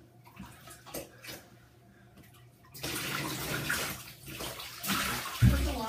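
Water runs into a bathtub during a dog's bath, starting as soft dribbles and splashes, then becoming a steady, louder gushing stream from the tap with a brief splash near the end.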